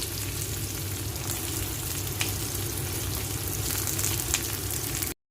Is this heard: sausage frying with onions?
yes